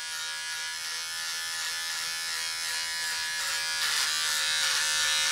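An electric beard trimmer buzzes steadily and close up as it cuts through a beard and mustache, a continuous high whirring drone that grows slightly louder and rougher toward the end.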